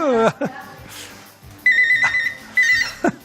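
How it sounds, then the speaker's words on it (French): A telephone rings in a French live television call-in studio, with two bursts of electronic ringing after a short voice, close and fairly loud, with brief speech around it. "Téléphone."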